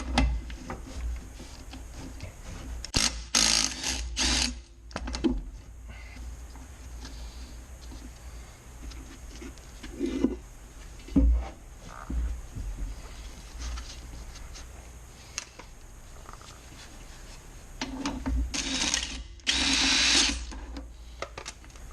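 A hand tool working on the rear caliper bracket bolt of a Mini Cooper R56 (non-S), heard as quiet ratcheting clicks and metallic knocks in scattered bursts, close up, with little talk.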